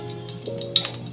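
Two torn dried red chillies drop into hot oil in a home kitchen pan, giving a soft, close sizzle with a few quick crackles and pops.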